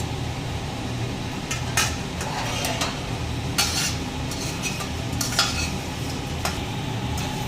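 Fried potato chips stirred with salt in a pan: a steady soft sizzle runs throughout, broken by several sharp scraping clinks of a utensil against the pan, close and fairly quiet, with no voices.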